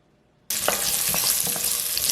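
Garlic hits hot olive oil in a pot and starts frying, a sudden loud, steady sizzle with faint crackles that continues alone.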